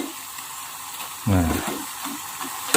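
French fries sizzling and bubbling in hot oil in a home kitchen, a steady close crackle that surges briefly as the potatoes are stirred and turned.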